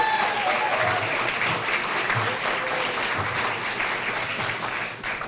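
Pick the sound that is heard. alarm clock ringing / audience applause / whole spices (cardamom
audience applause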